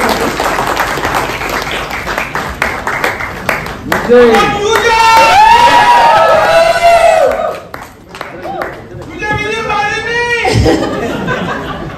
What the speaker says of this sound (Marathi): एकदा टाळ्या झाल्या पाहिजे